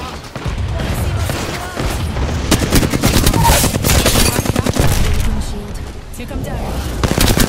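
Apex Legends gunfire, bursts of automatic shots and heavier impacts mixed with explosive booms, loud and busy throughout, with game voices talking over the action.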